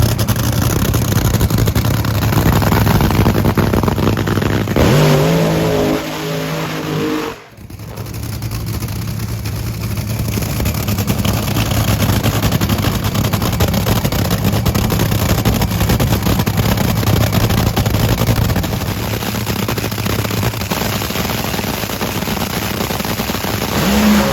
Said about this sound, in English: Antron Brown is set to make another pass